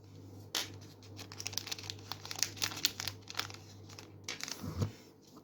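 A Pokémon booster pack is cut open with scissors: close, crisp crinkling and rustling of the foil wrapper runs for several seconds, with a firmer crunch near the end.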